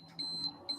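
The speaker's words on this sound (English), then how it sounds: "that's my alarm going off" A phone alarm sounds in a quiet room: a steady high electronic tone in three short beeping bursts, moderately loud with a faint low hum underneath and no talking.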